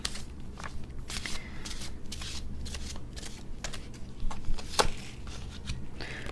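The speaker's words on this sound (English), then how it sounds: "I'm going to pull another card here." A tarot card being pulled from a deck, with soft papery riffles and brushing card sounds close by, a few sharper flicks, and one crisp snap near the end.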